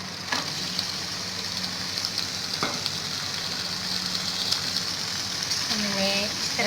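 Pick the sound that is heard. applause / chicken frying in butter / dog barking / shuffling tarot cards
chicken frying in butter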